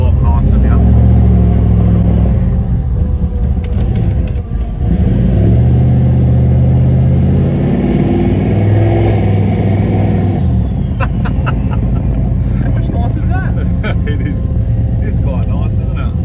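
A Holden Monaro with a Powerglide automatic and trans brake being driven hard, its engine loud and continuous as it revs and pulls through gears, with voices talking over the roar.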